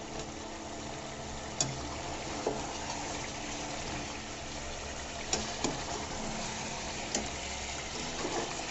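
Lemon pepper chicken cooks uncovered over a high flame, giving a steady, soft sizzling hiss with a few faint pops and crackles scattered throughout.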